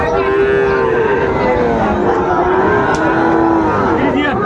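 A Friesian bull calf at a cattle market in Munshiganj moos loudly and at length, with several drawn-out calls close by over crowd chatter and voices.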